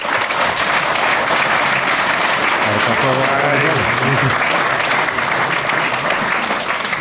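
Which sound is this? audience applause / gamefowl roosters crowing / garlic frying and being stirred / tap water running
audience applause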